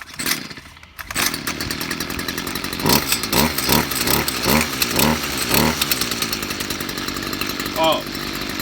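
A Stihl two-stroke petrol line trimmer is pulled into life and its engine runs loudly and close. It revs up and down in several rhythmic surges before settling into a steady buzzing idle.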